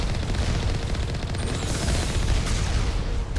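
Turret gunfire in the video game Mass Effect Legendary Edition rattles in rapid, continuous bursts, loud and close, with a dense stream of shots and a few brief whooshing sweeps.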